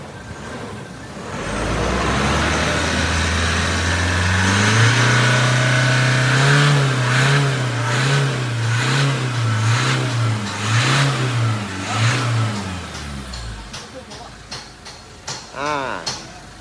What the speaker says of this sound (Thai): อันนี้ก็เทสท่อครับ